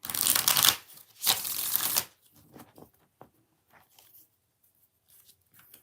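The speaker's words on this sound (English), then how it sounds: "2 more shuffles." Tarot cards are shuffled in two quick riffling bursts, close and crisp, followed by softer handling sounds and faint rustles.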